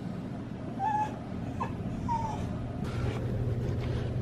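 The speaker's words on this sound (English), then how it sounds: "there's some dog scratching our door." Dog whimpering at a door, several short high whines and soft scratching spread over a few seconds against a low indoor hum, fairly faint and close.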